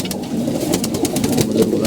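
A loft holding many pigeons fills with steady, dense cooing, a continuous close murmur of several birds at once with no voices.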